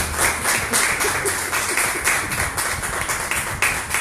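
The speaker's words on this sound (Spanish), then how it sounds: "Yo le estaría dando un aplauso al Señor" A church congregation applauds the Lord during a Spanish-language service, with many hands clapping in loose, rhythmic pulses, fairly loud and close, sustained for about four seconds.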